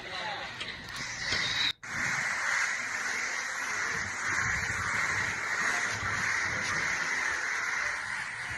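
A large gathering of crows caws together near electric poles, a dense, continuous clamor of overlapping calls filling the whole stretch, with a brief dropout early on.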